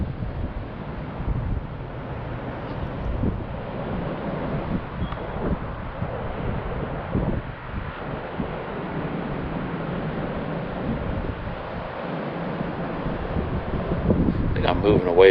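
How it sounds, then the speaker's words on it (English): Strong wind of about 17 to 18 miles per hour blows across a Mavic Mini drone in flight, a loud, continuous gusty roar lasting the whole stretch, with a voice occasionally present beneath it. "Strong winds, fly with caution."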